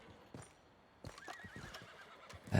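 A horse in Red Dead Redemption 2 gives a clear, wavering whinny, close by, over a few soft clip-clop hoof thuds, ending in a louder snort-like burst.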